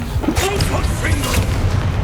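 A Confringo fire-blast spell in a Hogwarts video game erupts as a loud, dense boom with crackling bursts, close and forceful, with a voice heard alongside.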